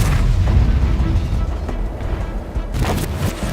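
A tank cannon in an armored-warfare video game fires a deep, booming shot, then the heavy rumble fades, with a second burst near the end.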